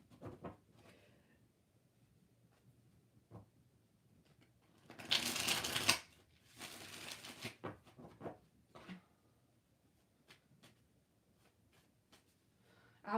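Tarot cards are being shuffled in a few quick bursts of riffling, close and crisp, with quieter card handling and soft taps between them in an otherwise still room.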